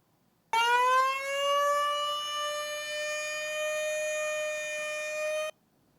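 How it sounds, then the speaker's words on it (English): A volunteer fire department's civil defense emergency siren, sounding in a test: a single steady tone rises quickly and holds for about five seconds, loud and alone, then cuts off abruptly into silence. "The volunteer fire department was testing its emergency siren for the very first time."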